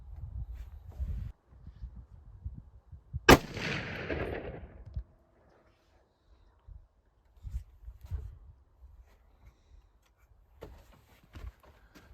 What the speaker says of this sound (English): I want to just make sure that wasn't just a flyer from the shooter.